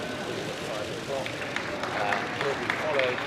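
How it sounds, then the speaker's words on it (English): Scattered applause from onlookers on Downing Street as departing Prime Minister David Cameron leaves, fairly distant and uneven, mixed with street ambience and a voice talking over it. "acknowledges the applause"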